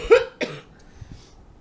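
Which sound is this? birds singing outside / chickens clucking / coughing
coughing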